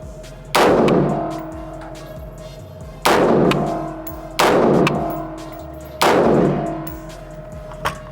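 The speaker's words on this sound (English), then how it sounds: "So let's just keep shooting." Four loud, sharp rifle shots from a 20-inch-barrel rifle with a 1:7 twist and iron sights, fired outdoors at a range, each followed by a long ringing decay and spaced a couple of seconds apart.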